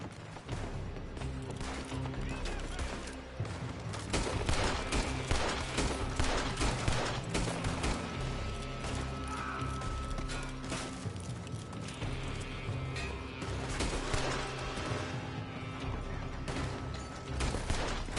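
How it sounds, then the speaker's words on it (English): Gunfire from a building in Red Dead Redemption 2, with repeated sharp shots and bursts over a dense, busy backdrop of commotion and hoofbeats, sustained and fairly loud throughout. "They're shooting from that building!"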